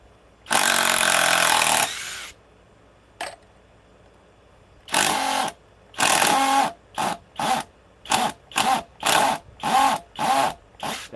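A Bosch cordless power tool runs in bursts: one long two-second whir, a short blip, then a rapid series of about ten brief, loud on-off triggers with quiet gaps between.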